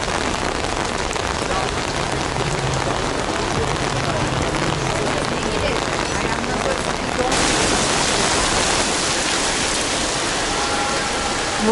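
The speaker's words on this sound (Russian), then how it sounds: "Вот такой вот сильный дождь начался" Heavy rain pours onto a street at a Christmas market in Alanya, Turkey, a loud, dense, unbroken hiss that grows stronger toward the end.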